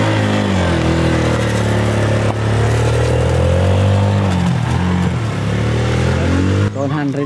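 A motorcycle engine revs loudly and close, its pitch climbing and falling across several throttle blips before cutting off, with people talking over it.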